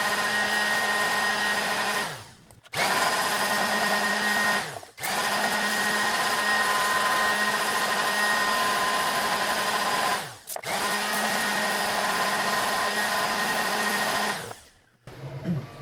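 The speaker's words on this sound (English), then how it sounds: "I'm using my orbital sander, because I just want to rush things a little bit." Loud, steady whine of an orbital sander sanding filler on an R2-D2 dome build close by, cutting out briefly three times before starting up again, with no talking.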